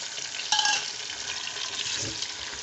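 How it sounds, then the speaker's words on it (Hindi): Ginger, garlic and green chilli frying for beef biryani, a fairly quiet steady sizzle with a brief louder burst near the start and a soft stirring scrape later, no voices. "अच्छी तरह मैं इनको 1 दफ़ा भून लूँगी"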